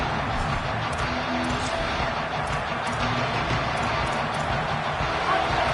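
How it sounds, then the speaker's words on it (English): A stadium crowd at a Tennessee versus LSU college football game roars in a dense, sustained wall of cheering that stays loud and even throughout. "This crowd, full throat, spreading the eardrums and letting them know it's going to be a long day."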